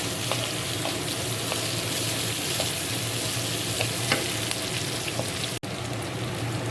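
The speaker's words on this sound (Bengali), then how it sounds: "মশলাটা এবার ভালো করে ভেজে নেবো পেঁয়াজটা।" Chopped onion and spices fry in a pan with a close, steady sizzle, dotted with small crackles and occasional stirring sounds throughout.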